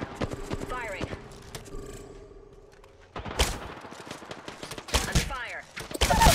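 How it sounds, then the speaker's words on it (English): Gunfire in Apex Legends, with rapid close shots in quick bursts, a pause, then more volleys over steady game ambience, mixed with in-game voice chatter. "Under fire. Taking fire."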